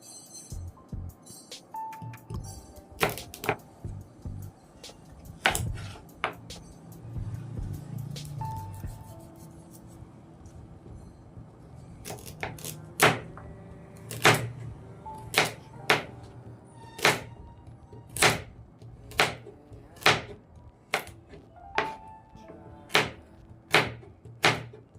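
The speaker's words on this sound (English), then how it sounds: "I'm done cutting the carrots." A knife chops carrots on a cutting board, crisp close knocks that start scattered, then settle into a steady, quickening rhythm of single cuts.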